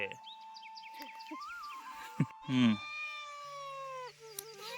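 A cat meows close by in a few drawn-out, wavering calls over a quiet room, mixed with a voice and a brief clatter.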